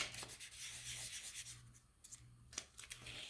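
A craft piece for a lucky gnome is rubbed firmly by hand to press it into full contact, soft close rubbing and scratchy friction strokes in short repeated bursts, quiet and without talk.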